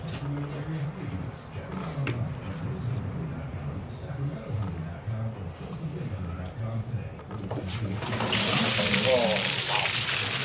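Water from a shower pan flood test suddenly gushes out after the drain is popped, a loud hissing rush rising in the last seconds after people talk over quieter water sounds.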